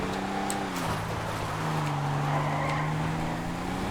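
A custom Mercedes-Benz G63 AMG 10x10 double dually slides with its tires skidding. A steady, close engine drone carries continuous tire scrub for about four seconds, with no talking.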